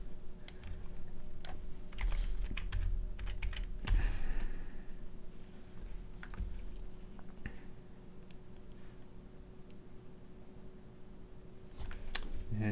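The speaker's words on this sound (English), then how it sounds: "you just type in the county code" Keys clicking on a computer keyboard as a short county code is typed, a few light taps scattered over a steady low room hum, fairly quiet and close, with no talking.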